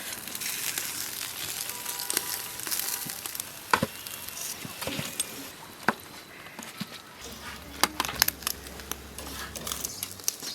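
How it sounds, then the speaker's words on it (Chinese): Pork trotters sizzle on an outdoor grill as fat drips off them, giving a steady crackling hiss scattered with sharp pops and snaps. "烤到猪蹄儿表面滋滋的冒油就好了"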